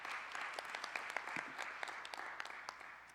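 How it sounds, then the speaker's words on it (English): Audience applause for a group of students at a school event, steady overlapping clapping from many hands that holds even for a few seconds and tapers slightly at the end, with no voices over it. "So let's give those students a round of applause."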